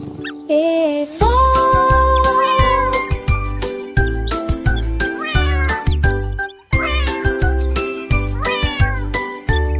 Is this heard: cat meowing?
yes